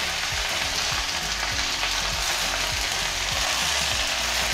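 Whole uncut saag greens frying in a hot pan, a loud continuous close sizzle with faint crackles and no talking.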